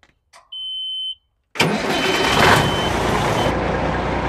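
A truck being backed into a parking spot beside an old Freightliner sounds one long, steady reversing beep, then a loud diesel engine rumble and hiss take over.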